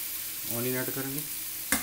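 Onions sizzle in about half a cup of hot oil for prawn masala, a steady close frying hiss with a brief voice-like tone in the middle and a short clatter near the end.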